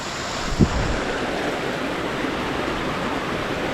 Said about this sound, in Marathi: खळखळ वाहणारा आपला हा ओढा